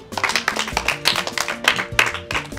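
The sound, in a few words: audience applause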